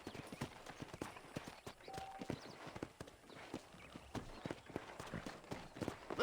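Horse hooves clip-clop at a steady walking rhythm in the video game Red Dead Redemption on PC, a continuous string of close, crisp hoof strikes over a quiet background.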